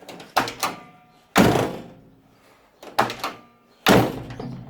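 The door of a 1972 Range Rover is shut several times, with some four or five solid thunks spaced about a second apart, each with a brief rattle and decay, heard up close with no talk.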